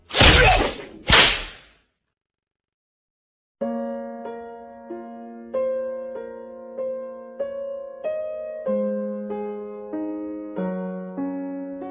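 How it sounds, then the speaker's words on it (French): Two sharp whip cracks snap in quick succession, loud and alone, followed by silence before a melodic keyboard-like tune begins. "on va t'infliger des coups de fouet par milliers"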